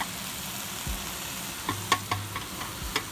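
Noodles stir-frying with vegetables in a pan, a continuous sizzle with scattered clinks and scraping bumps from stirring in the latter half.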